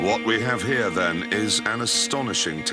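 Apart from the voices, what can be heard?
No distinct noise like a dog, phone or traffic.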